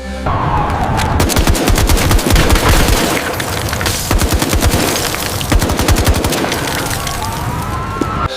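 Gunmen and police exchange fire at a building in Istanbul: rapid bursts of automatic gunfire crackle continuously, with repeated volleys and sharp reports echoing loudly throughout, some booming thuds mixed in.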